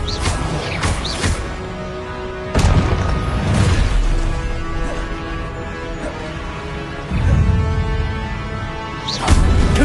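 Blasting curse explosions in Hogwarts Legacy, with several loud booming bursts at intervals over a constant rumbling game background and no talking.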